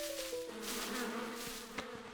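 Cartoon bees buzz from a hive in a steady, faint drone with a humming tone, wavering slightly, with a brief sharp accent near the end.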